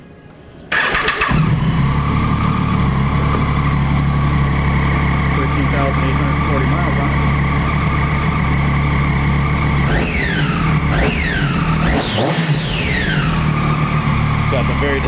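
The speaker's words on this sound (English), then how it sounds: "Let's fire it up and hear that triple sound." A 2007 Triumph Daytona 675 motorcycle's three-cylinder engine cranks and catches, then settles into a steady, close idle with a few quick throttle blips near the end.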